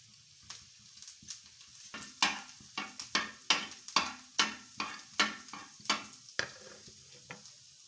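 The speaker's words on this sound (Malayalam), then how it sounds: "ഒരു ടീസ്പൂൺ കടുക് വറുത്തൊഴിച്ചത്." Mustard seeds popping and crackling in hot coconut oil in a pan, a quiet sizzle breaking into a dense run of sharp, evenly spaced pops, close up and without talk.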